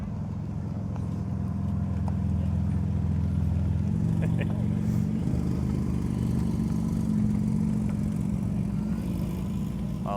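A red Porsche GT2 RS rolls into a charity car show, its engine a deep, steady rumble close by that rises slightly in pitch midway as it moves past.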